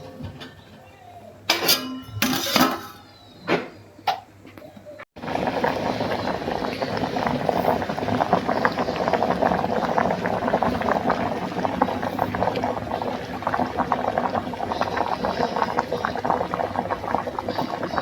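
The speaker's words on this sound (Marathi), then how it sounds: "बघा कसा खतखतता" Cashew curry bubbling steadily in a covered pot on a wood-fired stove, a continuous dense simmer after a few clinks and knocks at the start.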